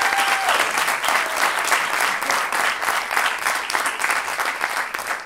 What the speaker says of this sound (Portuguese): Um forte aplauso para o meu primeiro convidado.